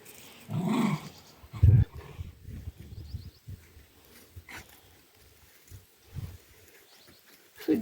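A dog growls and grumbles in low bursts, close by, with quiet gaps between the rumbles.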